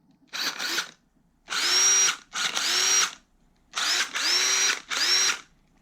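An old cordless power tool revived with a 3D printed battery whirs up and winds down in four loud bursts, rising in pitch each time as the trigger is pulled, with short silences between.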